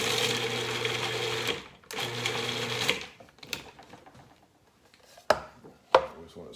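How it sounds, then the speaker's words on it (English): Food processor pureeing roasted garlic, a loud whirring motor running for about three seconds in two bursts, then scraping and a couple of sharp knocks. "just take our food processor and we just let it go"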